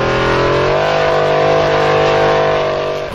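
A formula offroad car at an Icelandic hill climb at Stapafell, its weak engine stuck at the base of the final climb, revs hard in a loud, close, steady drone whose pitch rises slightly early on and then holds without any voices.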